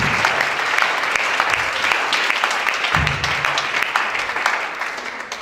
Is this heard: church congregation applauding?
yes